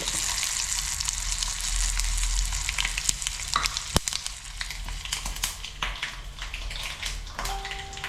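Chicken fries in a pan for a chicken fry dish, giving a constant crackling sizzle with scattered pops and one sharp clink, steady and close throughout.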